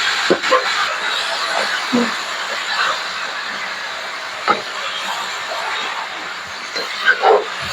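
Vegetable spices tempering in hot oil give a continuous loud close sizzle and hiss, broken by a few sharp pops and crackles.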